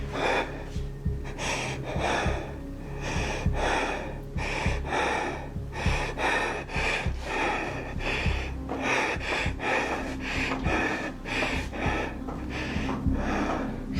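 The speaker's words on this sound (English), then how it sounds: "You hear his breathing." A man breathes heavily in a scary ghost scene: rhythmic, close gasps and snorting inhales and exhales repeat steadily for the whole stretch, with no talking.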